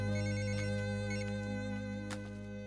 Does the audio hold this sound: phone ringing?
yes